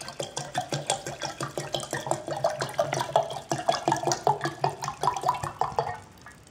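Water pouring into a Bormioli Rocco Frigoverre glass jar, filling it to about two liters, a close, gurgling stream with a rhythmic glugging pulse and a rising pitch as the jar fills.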